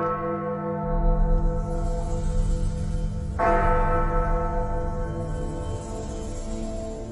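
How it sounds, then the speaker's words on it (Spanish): Church bells ring inside the Winchester mansion, a sustained, loud resonant peal with overlapping tones and a fresh strike partway through, heard alone with no voices. "cada viernes 13, en el interior de la mansión, se tocan 13 veces las campanas que allí se conservan"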